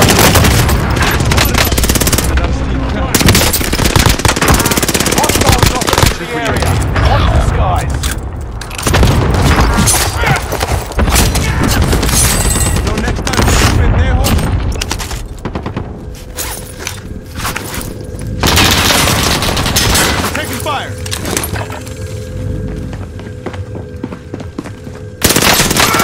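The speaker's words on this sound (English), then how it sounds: "Watch the airstrike on my marked target." Airstrike explosions and gunfire in Call of Duty Warzone Pacific: loud booms and rapid machine-gun bursts come in heavy waves, easing briefly midway and then returning with scattered shots and footsteps.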